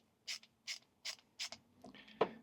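A Klein Tools ratcheting nut driver from the KNECT starter kit clicks in four quick, evenly spaced bursts of ratchet ticks, close and quiet, ending with a few looser mechanical clacks.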